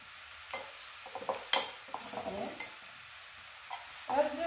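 Oil, seeds and mayonnaise for a salad are mixed with a spoon in a bowl, making quiet, intermittent scrapes and soft clinks separated by short pauses.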